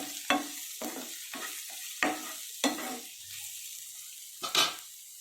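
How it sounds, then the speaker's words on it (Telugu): Onions and tomato frying in a pan for a lobia curry, close-up sizzling broken by a series of sharp scraping stir strokes at uneven intervals, with quiet gaps between them. "ఈ ఉల్లిపాయలు వేగిపోయినాయి. ఇప్పుడు టమాటా కూడా వేసేసుకున్నాము."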